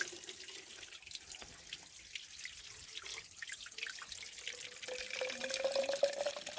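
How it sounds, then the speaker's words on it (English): Cold, clear spring water flows and trickles steadily at a mountain trail water source on the Appalachian Trail in New Hampshire, a soft continuous babble with occasional drips. "I thought this was a cool water source"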